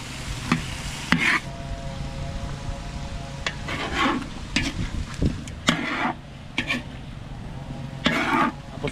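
Oil sautéing in a pan as the base for chicken tinola, a soft steady sizzle broken by scraping stirs of a spatula against the pan, close by with no talking.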